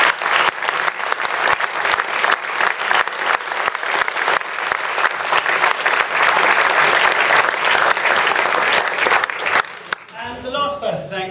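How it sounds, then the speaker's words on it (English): Loud, sustained audience applause at a school concert fills the space with dense clapping, then drops off suddenly and a voice begins speaking. "So a big round of applause please for Ollie."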